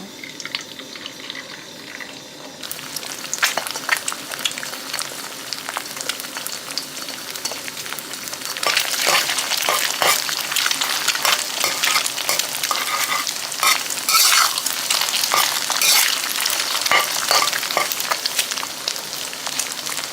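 Steady sizzling and crackling of eggs frying in hot oil, growing louder partway through, with scattered pops and spatters.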